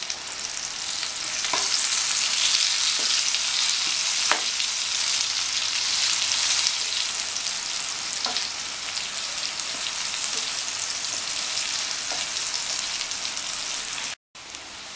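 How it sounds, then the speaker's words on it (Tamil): Raw plantain slices frying in oil for a crispy Tamil-style vazhaikkai roast, a loud continuous sizzle with occasional soft knocks from stirring and turning, ending abruptly. "நல்லா ஃப்ரை ஆகிற வரைக்கும் இந்த மாதிரி மாற்றி பரட்டி விடணும்"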